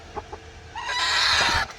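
Desi country hens packed in a parcel cluck in short bursts, rising into a sustained, excited clucking that is loud and close, with no one speaking.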